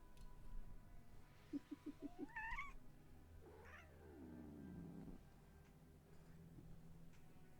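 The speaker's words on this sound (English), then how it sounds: "Stormlost, little kitten." A pet cat named Stormlost, a little kitten, lets out a few short chirping meows followed by a longer, drawn-out complaining meow, close and fairly quiet against a soft background hum.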